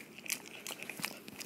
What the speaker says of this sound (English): Right now he's chewing on one of the little, alligators that we bought him